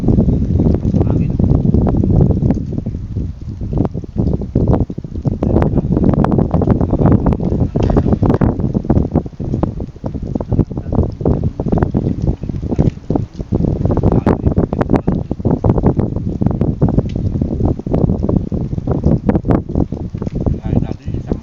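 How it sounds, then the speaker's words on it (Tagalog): Strong wind buffets the microphone over a boat at sea, a loud, continuous low rumble with gusty swells and crackling bursts throughout. "Hangin."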